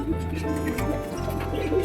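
Soft pigeon cooing rises over a steady low background hum, with a few faint chirps mixed in.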